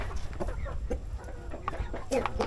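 Native chickens cluck in a farmyard, several short, moderately close clucks and calls scattered irregularly over a low rumbling background.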